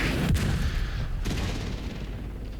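Mortar fire in the video game The Division 2: two heavy booming impacts about a second apart over a continuous low rumble, loud and close, with no speech.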